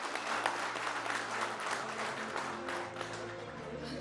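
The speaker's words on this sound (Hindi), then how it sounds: "जोरदार तालियां" A crowd claps steadily in sustained applause, a dense patter of many hands that fades slightly toward the end.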